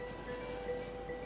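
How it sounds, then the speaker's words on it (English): A phone ringtone rings softly: steady sustained electronic tones held at a constant low level over a quiet background, with no speech. "That was my phone ringing."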